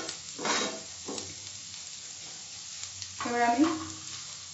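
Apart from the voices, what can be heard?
sautéing in a pan for mushroom pepper fry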